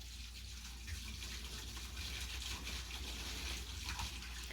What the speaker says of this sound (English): You're going to hear some running water.